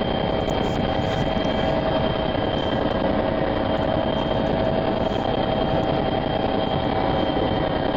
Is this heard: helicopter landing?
yes